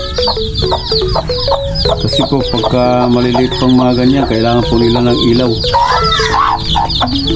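A mother hen and her thirteen chicks in a brooder cage, the hen clucking repeatedly and loudly up close over constant high peeping from the chicks, with someone talking over them.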